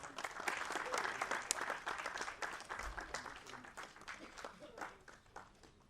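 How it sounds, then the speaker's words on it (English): Applause from an audience at a formal ceremony as a memento is presented, moderately distant and softer, with dense clapping that gradually thins, and some voices mixed in. "A round of applause, ladies and gentlemen."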